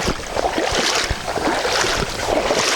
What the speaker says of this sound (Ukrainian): Вітер тільки не такий, як нам треба.